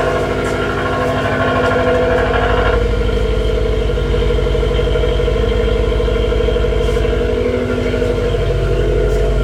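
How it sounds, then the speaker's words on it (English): Secondary air pump running on a 2018 Subaru WRX STI with custom downpipe and tune, a steady droning hum layered over the idling engine, loud and continuous throughout with no talk. "So that air pump is on right now."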